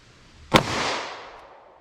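A single .38 Special revolver shot fired into denim-covered ballistic gel cracks out sharply, then a broad echo rolls away and fades over about a second, with no talk.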